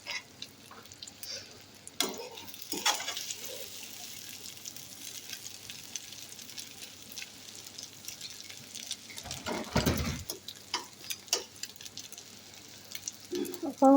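An egg fries in a pan with a soft, steady sizzle, broken by scraping and tapping from stirring, plus a few louder clatters and knocks.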